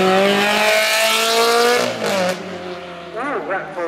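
A Ferrari and a TVR racing at a speedfest event, engines revving hard and climbing as wheels spin wildly, then shifting and fading as the cars pull away; the roar dominates.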